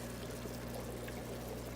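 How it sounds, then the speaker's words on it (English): Water rushes steadily through the internal sump filter of an African cichlid aquarium, passing through sponges and bio balls, a continuous close hiss and pouring trickle over a low pump hum. "Water goes in through the Sun, comes out here, goes through some sponges, into some bio balls"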